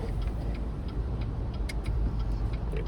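A car rolls along a street in steady, close interior engine and road noise, with faint ticking, like a turn signal, repeating over the hum.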